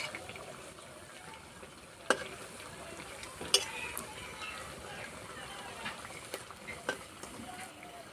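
Quiet, steady sizzle of potato and rice dough frying in oil over low heat, with a few sharp clicks and pops scattered through it.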